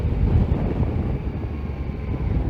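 Steady low wind buffeting and rumble while riding a 2020 Yamaha Tracer 900 GT motorcycle, a continuous dense roar that swells and eases slightly throughout, with no voices.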